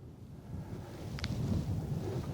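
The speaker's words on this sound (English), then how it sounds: "And it's windy." Wind buffeting a microphone zipped under a hooded top in the Valley of Fire desert, low rumbling gusts that swell and grow stronger, with a brief faint click partway through.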